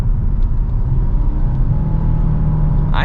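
A 2023 Nissan Altima 2.5 SR AWD drives through a gentle turn with steady throttle, its engine a continuous low rumble and hum heard from inside the cabin, with a brief louder rustle near the end.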